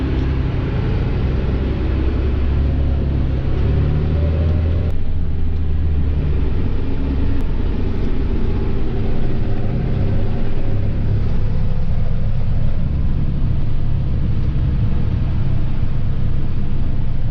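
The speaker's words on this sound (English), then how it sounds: "He's got the air compressor running." An air compressor runs steadily on a farm at planting time, a loud continuous low rumble with a broadband hiss that holds without a break, with no talking over it.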